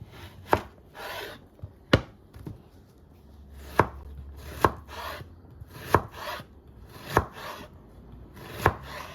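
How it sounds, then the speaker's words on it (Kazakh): A knife chops an onion on a cutting board in slow, even strokes, each sharp tap about a second apart, close up with no talking. "Пиязымызды осындай деп"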